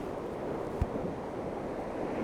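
Rough, angry ocean surf at Garrarus beach in Ireland, a dense continuous wash of breaking waves with wind buffeting the microphone, steady and close.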